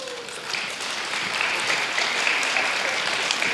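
An audience at a children's folk dance festival in Bük, Hungary, claps in a dense, sustained burst of applause that swells slightly after starting.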